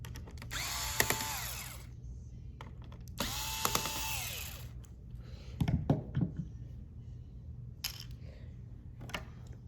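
A small screwdriver works on the bracket screws of a Lenovo Yoga 11e Gen 5 laptop, giving two bright whirring bursts of turning, then scattered light clicks and taps at close range with no talk.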